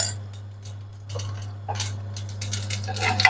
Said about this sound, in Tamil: இப்போ பாருங்க கடுகு சீரகம் வெந்தயம் எல்லாம் நல்லா பொறிப்பட்டுட்டது